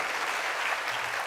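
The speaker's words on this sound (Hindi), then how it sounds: "अनमोल जी के लिए एक बार जोरदार तालियां हो जाए।" Audience applause for Anmol at a network marketing seminar, a brief steady wash of clapping at moderate level with no talk over it.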